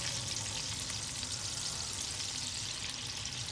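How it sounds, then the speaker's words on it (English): Hamburger steaks fry in a pan over medium-high heat, giving a steady, close, dense sizzle with faint crackles that continues unbroken throughout with no voices. "I'm frying it on, like, I guess like a medium high heat"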